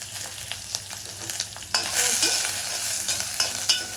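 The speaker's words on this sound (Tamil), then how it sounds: "கொஞ்சோண்டு கடுகு, மிளகாய், பூண்டு, இஞ்சி போட்டுட்டு கொஞ்சோண்டு பெருங்காயத்தூள் போட்டுக்கணும்." Mustard seeds, chili, garlic and ginger temper in hot oil, giving a soft crackling sizzle broken by repeated scraping stir strokes, moderately quiet and close, with no voices.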